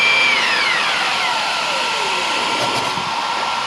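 An electric vehicle drive motor spinning at over 10,000 RPM on a bench gives a steady, fairly mild whine, with falling tones sweeping down as it slows.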